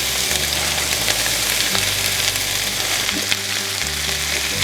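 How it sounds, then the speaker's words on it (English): Chopped spinach frying in butter in a hot pan, a loud dense close sizzle with light stirring scrapes over a low steady hum, no voices. "Now we're going to start putting some of this spinach in there."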